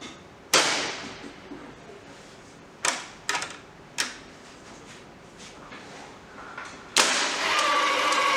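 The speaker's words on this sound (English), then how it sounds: "At first, we tripped the breaker manually." A Hyundai ACB HiAN16 air circuit breaker, tripped by hand on the bench, gives a series of sharp, close mechanical clacks separated by quiet gaps, ending with a louder snap followed by a sustained hum.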